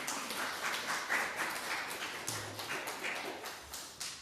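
A congregation at a Korean Sunday church service in Darmstadt applauds in welcome: soft, scattered clapping from a moderate distance, light and uneven, with a few sharper pats standing out.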